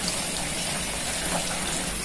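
Steady water gushing from a spout, a continuous broadband rush with no talk over it.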